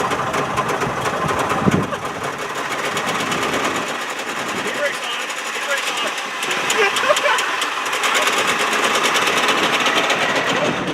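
A Trabant's small engine runs with a rapid, rattly two-stroke clatter, steady and fairly loud throughout as the car gets underway.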